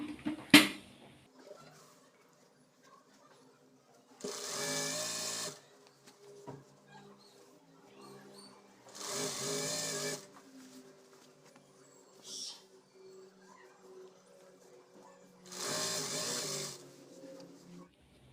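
A sewing machine stitching a double-folded hem on a nighty, running in three short bursts of a few seconds each, separated by quiet pauses with faint handling noises.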